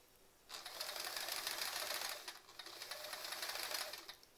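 A sewing machine stitches embroidery along a quilt block, a faint, even high-speed whirring run of about two seconds, a brief pause, then a second similar run.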